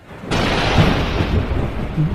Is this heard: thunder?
yes